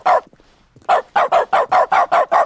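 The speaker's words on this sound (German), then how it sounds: "Dann bellen wir mal ganz seriously herum." A dog barks in the video game The Stanley Parable: one bark, a short pause, then a rapid, loud run of seven evenly spaced barks, heard alone without talk.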